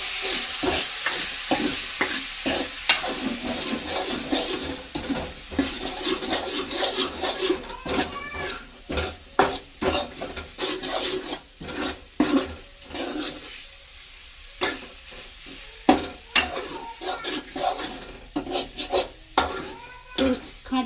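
A spoon scrapes and stirs poha in a pan, a run of rough, irregular rubbing strokes with soft sizzling, close and fairly loud, and no talk over it.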